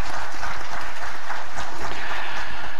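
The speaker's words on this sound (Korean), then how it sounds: "하나님께 영광의 박수를 한번 하십시다." Church congregation clapping together in praise during a worship service, a loud dense continuous patter of many hands with no voices over it.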